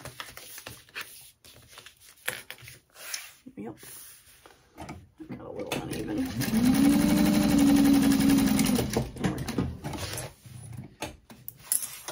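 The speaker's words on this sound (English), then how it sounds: "sewing the bottom seam of the side gusset together through the exterior and through the lining" A sewing machine stitches the bottom seam of a backpack side gusset through exterior and lining, a steady whirring run of a few seconds after some handling clatter, with a person talking nearby.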